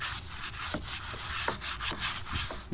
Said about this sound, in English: I'm going to scrub it